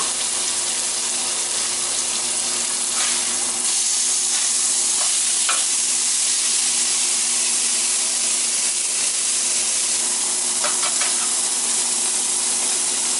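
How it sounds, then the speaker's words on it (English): Eggs fry in bacon fat in a hot pan, a steady bright sizzle crackling throughout with a few sharper spits and pops, close and continuous. "Put some bacon fat in there for the eggs."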